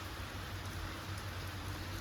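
Rain falls steadily, a dense continuous hiss of drops with a low rumble underneath and no pauses or voices.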